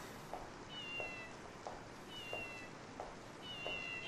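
A cartoonish cat meows several times in a steady rhythm within the WarioWare: Smooth Moves video game, each short meow rising clearly over a dense, noisy game soundtrack.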